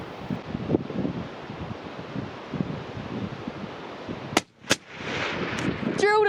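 A hunting rifle fires at a bull tahr in the Canterbury high country of New Zealand, two sharp, loud cracks in quick succession over steady wind noise, followed by muffled rustling.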